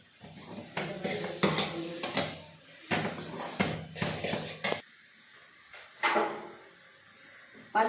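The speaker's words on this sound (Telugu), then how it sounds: "దీనిని అంతా కలిసేలాగా మనం బాగా కలుపుకోవాలి." Spoon stirring two small spoonfuls of salt through a mixture in a pan for a chapathi dish, with a series of close, loud scraping and clinking bursts separated by short pauses.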